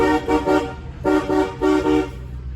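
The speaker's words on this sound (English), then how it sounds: "And I love the horn." A 1990 Cadillac Brougham's horn sounds three times: long, loud, chordal honks with short gaps between them, heard close up and with no talking.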